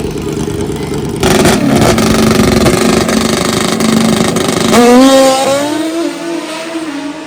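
A motorcycle engine revs hard at a bike fest, a loud close roar holding steady, then climbing in pitch around five seconds before easing back, with outdoor crowd noise beneath and no speech.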